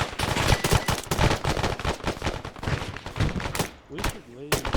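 Dense gunfire in the military video game ARMA 3 during an ambush, rapid overlapping automatic bursts and single shots crackling close and loud, with a brief lull before more shots.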